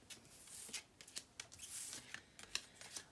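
A deck of oracle cards is shuffled and drawn by hand, soft, quick riffling flicks and slaps in irregular bursts, close and quiet, with no speech.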